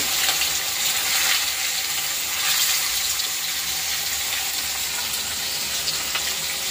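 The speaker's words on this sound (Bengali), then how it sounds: "এখানে মাছ ভাজা হচ্ছে" Steady, dense sizzling of fish frying in a pan, continuous and fairly loud throughout with no voices.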